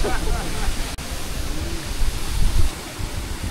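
Pinaisara waterfall in Okinawa, with its 55-metre drop, makes a steady broadband roar of falling water into a deep plunge pool, loud and continuous throughout.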